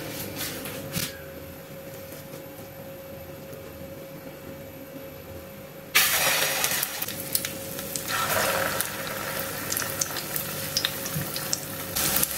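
Egg-dipped tikki patties fry in hot oil, a faint steady sizzle at first, then a loud, dense crackling hiss bursts in as more patties are added, continuing strongly to the end.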